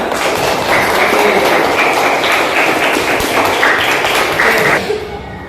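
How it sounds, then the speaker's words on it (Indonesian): Students in a classroom clap together, a dense, steady patter of applause lasting several seconds before it tapers off near the end. "Ya, tepuk tangan."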